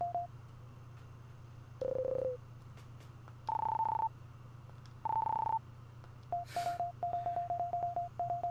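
Electronic beeps from the Illusion of Gaia video game, a series of tones in Morse-like patterns: long held tones alternating with rapid short blips over a steady low background hum.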